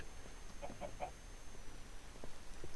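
Chicken clucks from the video game Minecraft, three short faint clucks in close succession over a low background hum, with no voices.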